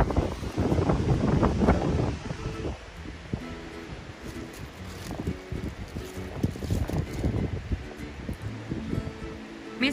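Strong, cold wind blows outdoors in gusts against the microphone, a loud rushing roar at first that eases into softer buffeting mixed with scattered rustling and knocks.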